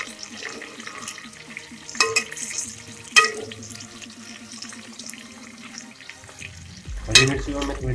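Green chillies sizzling with golden-fried onions in a pan, a soft steady crackle broken by a few sharp stirring clatters and a louder burst near the end.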